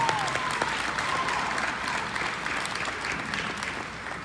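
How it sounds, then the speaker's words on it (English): Applause at a middle school Black History program, a crowd clapping steadily in a hall at moderate volume, sustained evenly throughout. "Let's give Anya a round of applause for presiding"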